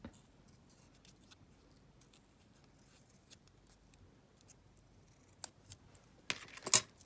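Scissors snip a tiny paper tab for a junk journal tag, a few quiet close cuts landing near the end after a hushed stretch.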